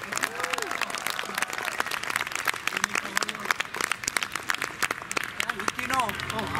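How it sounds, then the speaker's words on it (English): Applause from an audience at a Hawaiian music and hula performance, continuous clapping with scattered cheers, partly overlapped by a voice over a PA. "One more time, a big round of applause"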